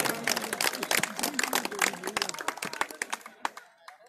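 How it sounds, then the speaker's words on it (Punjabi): A crowd claps at an outdoor kabaddi match at Malikpura, a burst of rapid, scattered claps that thins out toward the end. A commentator talks loudly over it. "ਤਾੜੀ ਦਾ ਮਾਰ ਦੋ ਇੱਕ ਵਾਰੀ"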